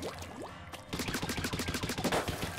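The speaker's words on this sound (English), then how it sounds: "the best way to use this gun, use the gal, is to just tap shot" The gal gun in the shooter Splatoon 3 is tap-fired in quick succession, a rapid run of sharp, evenly spaced shots after a brief softer lead-in.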